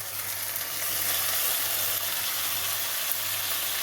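Chicken keema with peas stir-fried in a pan for a restaurant-style dish, a steady loud sizzle with faint scraping of stirring throughout, no voices.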